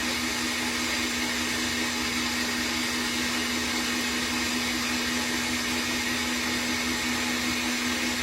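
An electric mixer whips egg whites in a farm kitchen, giving a loud, steady, unbroken whir close by for the whole stretch with no talking.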